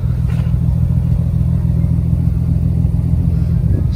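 A Nissan 300ZX Z32 engine idles smoothly and quietly, a steady low hum with a slight even lope throughout, loud and close.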